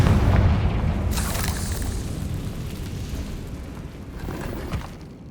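A Confringo fire spell bursts in Hogwarts Legacy, a deep booming explosion with a loud blast at the start and another at about a second in, followed by a rumbling, crackling tail that fades out.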